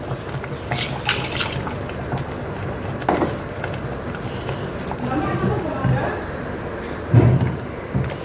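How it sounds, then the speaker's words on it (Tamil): Rinse water splashes and pours briefly from a mixer jar into a pot of mutton curry, with a person talking over it. "மிக்ஸி கழுவி தண்ணி ஊற்றிக்கலாம்."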